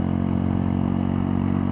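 A 2018 Mutt Fat Sabbath 125cc motorcycle on a small country road, its single engine throbbing in a steady, loud, close drone with even rapid pulses throughout.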